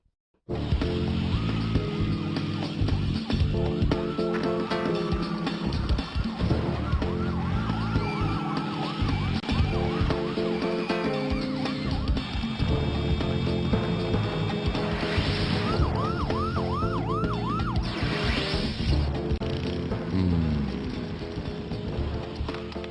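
Police sirens wail continuously over a busy, music-heavy scene in the animated family show Les Baskerville, with rising and falling tones repeating throughout and a loud, dense backdrop underneath.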